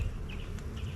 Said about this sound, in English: There are a ton of bees up in the top box